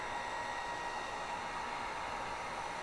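Steady, even rush of hot air blowing from a heat gun during a Ford Edge EVAP purge valve replacement, a constant whooshing drone with no breaks.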